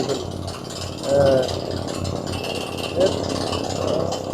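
A well-drilling machine bores a groundwater well, giving a loud continuous mechanical grinding and rumble with occasional surges, while someone talks over it close by.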